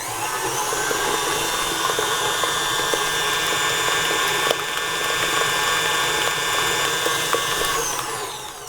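Electric mixer running steadily on high speed through vanilla cupcake batter, a loud continuous motor whir with a bright tonal hum that holds without a break for the whole stretch, no talking over it.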